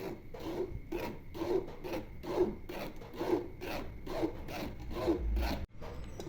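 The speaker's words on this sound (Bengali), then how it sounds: "এভাবে চালনি দিয়ে চামচে নেড়ে নেড়ে চেলে নেবেন" A spoon is stirred through blended tomato pulp in a sieve, pressing it through with a rhythmic rasping scrape, about eight even back-and-forth strokes close by, ending in a soft knock.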